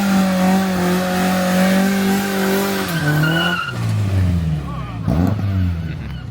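Ford Fiesta XR2 driving past at an evening old school car meet in Southend, engine note droning steadily and then dropping in pitch as it passes close by, with crowd noise behind.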